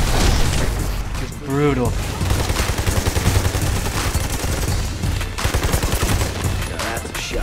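Rapid gunfire and booming explosions from the video game Army of Two: The Devil's Cartel pound along without pause, loud and dense, while a person talks over the chaos.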